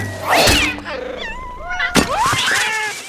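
A cat struck by an arrow lets out a loud, wavering yowl and caterwaul, with sharp thwacks before and midway through, in an animated short film scene.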